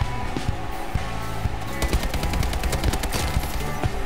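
Rapid automatic gunfire rings out in a team deathmatch video game, loud and dense bursts overlapping, with a fast rattling run in the middle.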